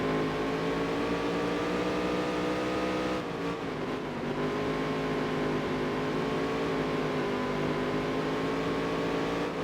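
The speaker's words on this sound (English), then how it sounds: "Engine's running rough. We have an engine malfunction in the middle of the race." Race car in the NASCAR Dirt to Daytona video game with its engine running rough mid-race, a loud, steady droning roar with a brief dip and stutter partway through, no talk over it.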